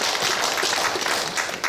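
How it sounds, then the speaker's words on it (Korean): Audience applause fills a pastors' couples seminar hall at a church lecture, dense steady clapping from many hands close by, continuous and fairly loud for the whole short stretch with no talking. "박수하겠습니다."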